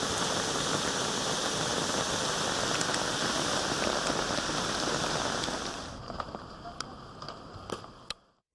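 Heavy monsoon rain pours steadily in a dense, loud hiss, then eases over the last few seconds into scattered drips and ticks on a surface.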